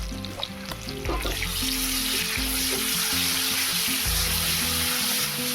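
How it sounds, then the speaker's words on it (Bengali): Chopped onion and mustard paste fry in oil in a wok for a Bengali vegetarian bean dish, a steady close sizzle with stirring clatter, loud and unbroken. "কড়াইতে তেল দিয়ে পেঁয়াজ কুচি আর সরিষা বাটা দিয়ে ভালোভাবে লাল লাল করে ভাজা করে নিতে হবে।"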